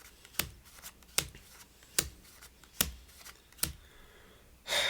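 Playing cards are dealt one at a time, five crisp evenly spaced snaps close up, followed by a brief riffle of cards at the end.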